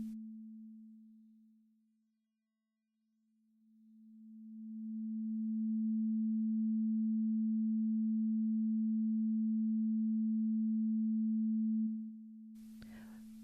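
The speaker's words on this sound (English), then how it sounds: "This is the waveform of a 220 Hz sine tone." A steady pure 220 Hz sine tone sounds alone, fading down to near silence around two seconds, then swelling back to a loud, constant hum before a brief burst of noise at the end.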